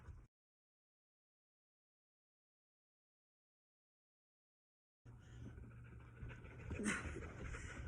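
Puppies playing and panting nearby, heard only after a long stretch of silence as quick breathy pants and faint whimpers under soft room noise.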